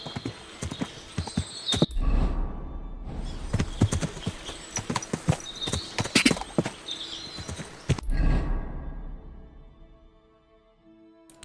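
Horse hooves clip-clop steadily at a trot in the video game Kingdom Come: Deliverance 2, with a few louder thumps and a quiet stretch near the end.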